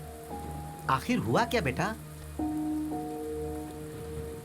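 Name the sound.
heavy rain falling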